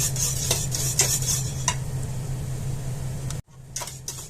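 A spoon scrapes and clinks around a pot of boiling pomegranate Turkish delight mixture, in steady repeated strokes close by, with a brief dropout near the end before the stirring resumes.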